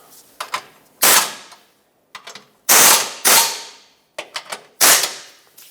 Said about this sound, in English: Reinstall this bracket. And snug up the bolts.